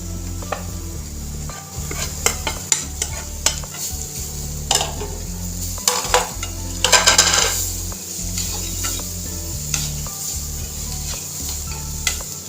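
Grated paneer stirred and fried in a pan for paneer bhurji, a steady close sizzle under repeated scraping and clinking of a metal spoon against the pan, with a few sharper knocks along the way.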